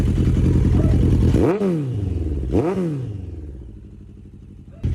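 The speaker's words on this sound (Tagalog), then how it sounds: "sound check muna tayo ng inline 4" A Suzuki Bandit 1250 inline-four motorcycle engine revs hard twice, each rise sweeping up then falling back, with a steady rough idle running between and after the revs.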